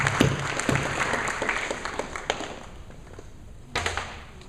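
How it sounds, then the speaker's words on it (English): Audience applause for an AV technician at a church talk on human trafficking: a burst of clapping that fades out over several seconds, then a short fresh flurry of claps near the end. "I think we need to give a round of applause for our AV technician back there."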